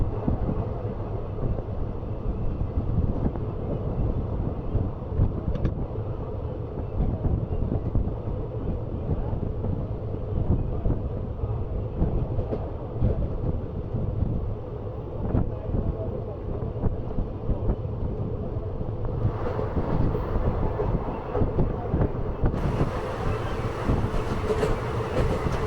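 A passenger train rolls through southern Rajasthan toward Kota with a constant rumbling clatter and wind rushing past, heard from onboard, loud and unbroken for the full length.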